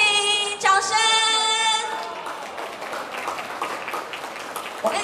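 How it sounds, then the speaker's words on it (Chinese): At a birthday party held at a summer event, a music jingle fades out while the crowd greets the birthday girls with moderate, scattered applause and a few cheers that carry on under the sound of the room. "让我们热烈掌声欢迎我们今天的寿星，掌声"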